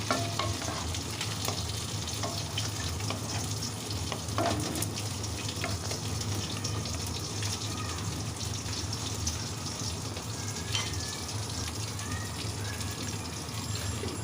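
Fried lentil bori and teasel gourd stir-fried in a pan, with a steady sizzle and repeated scraping and stirring strokes running throughout, close and continuous.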